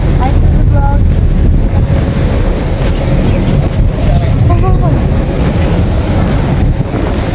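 A boat ride on Sydney Harbour near Manly, with strong wind buffeting the microphone and water rushing and splashing against the hull, loud and continuous.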